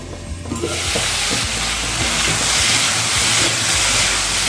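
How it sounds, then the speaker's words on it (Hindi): Potato and cauliflower sabzi with turmeric frying in a pan while being stirred continuously: a loud, dense sizzle that swells in after a moment, with repeated scraping strokes of the spoon, close up. "सब्जी को लगातार चलाते हुए भूनेंगे"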